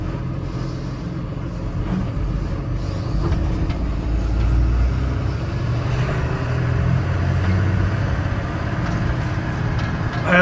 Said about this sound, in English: Going over our first speed bump here.